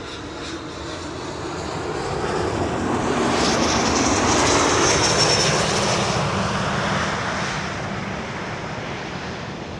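An airliner landing on the Kaagbaan runway at Schiphol airport, its engine roar swelling from a distant rumble to a loud close pass mid-clip and then fading away, with no voices.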